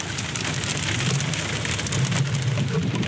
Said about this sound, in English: Time to get out of this hail.